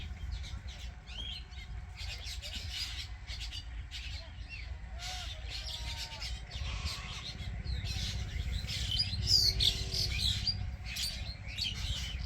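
Birds chirping and squawking as they fly over harvested fields outdoors, scattered calls at moderate distance over steady low wind or engine rumble.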